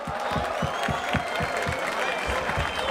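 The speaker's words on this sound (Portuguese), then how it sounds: "Palmas pra essa batalha." A crowd claps after a rap battle at an interstate MC competition in Barueri, São Paulo, with steady applause and scattered cheers under an ongoing rhythmic beat and faint voices.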